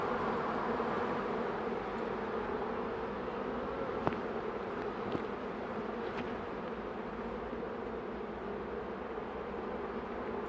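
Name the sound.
honey bee swarm buzzing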